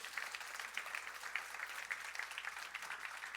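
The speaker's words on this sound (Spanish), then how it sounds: "déle ese fuerte aplauso al Señor" Applause from a church congregation during a Sunday service, a steady crackling patter of many hands held at a moderate, fairly distant level throughout, with no voices over it.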